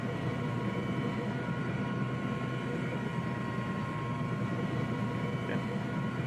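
A military helicopter hover-taxiing in Arma 3 gives a steady, droning turbine and rotor hum at moderate level, continuous with no breaks.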